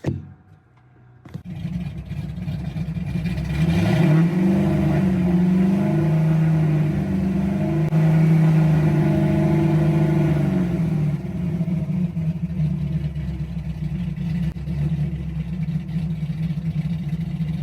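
A tuned Ford Mustang engine runs steadily and close by for the whole stretch, with a deeper, fuller rumble swelling in the middle before it settles back to an even idle.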